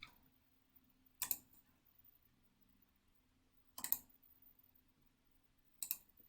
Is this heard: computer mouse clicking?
yes